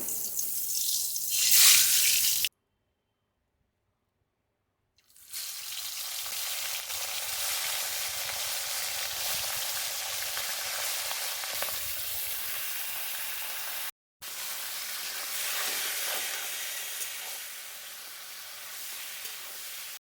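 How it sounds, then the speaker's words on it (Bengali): Fish head pieces frying in hot oil in a wok make a loud, even sizzle that cuts out briefly twice, heard close with no talk. "মাথাগুলো আমি খুব বেশি লাল লাল করে ভাজবো না একটু ভাজা হয়ে গেলে নামিয়ে নেবো"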